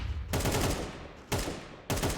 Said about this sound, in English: We already have gunfire breaking out on both sides of the map